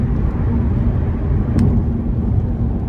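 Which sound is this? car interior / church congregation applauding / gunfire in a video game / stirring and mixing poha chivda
car interior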